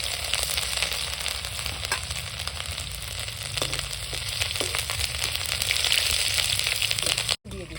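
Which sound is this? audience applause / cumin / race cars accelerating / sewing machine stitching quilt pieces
cumin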